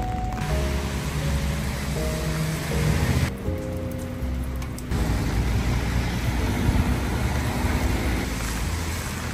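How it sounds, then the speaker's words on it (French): Heavy rain pours steadily on a rainy day among friends, a dense continuous hiss with low rumble and faint tonal background sounds, no speech. "Il pleut vraiment beaucoup, avez-vous remarqué?"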